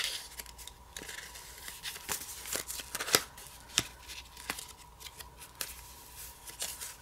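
Hands rummage through sheets of stickers, producing soft papery shuffles, crinkles and scattered sharp flicks, close and quiet, with no talking.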